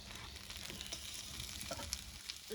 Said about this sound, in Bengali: জিরা ফোড়ন দিয়ে, হ্যাঁ, একটু পেঁয়াজ ভেজে নিচ্ছি।